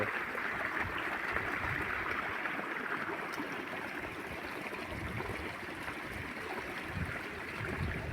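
Irrigation water rushes and gurgles steadily into a wheat field in a continuous broadband wash, loud and close, with no voices.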